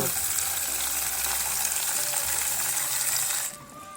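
Water poured over a frozen shark-shaped egg makes a steady, loud hissing gush for about three and a half seconds, then drops suddenly to a quieter fizzing trickle.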